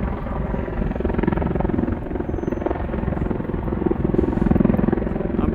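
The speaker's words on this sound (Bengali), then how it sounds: "উপর থেকে হেলিকপ্টার থেকে হচ্ছে গিয়ে পুলিশের হেলিকপ্টার মনে হয় ওইটা" A police helicopter passes overhead, its rotor making a loud, continuous throbbing beat that swells slightly toward the end, heard alone without talk.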